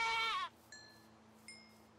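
A goat in the Minecraft After Humans modpack gives one loud, nearby bleat, followed by two faint, short chiming tones over a low steady hum.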